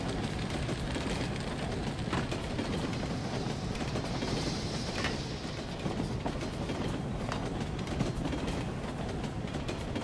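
A train rumbles along steadily in the video game UberSoldier II, with a continuous loud roar and faint rhythmic clatter throughout, uninterrupted and with no voices.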